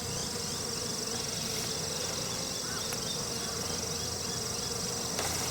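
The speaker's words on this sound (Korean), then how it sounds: "저기 말벌도 오고 있는 말벌 꽃. 수많은 벌레들, 벌도 아주 종류가 다양해요." Hornets and many kinds of bees, honeybees and wild bees among them, hum around flowers in a cultivated field, a dense, steady buzz filling the air, with faint distant chirps behind it.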